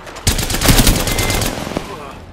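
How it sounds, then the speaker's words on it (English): Apex Legends gunfire: a short, loud burst of rapid automatic shots close by, followed by a few scattered single cracks as it trails off. "I'm taking shots."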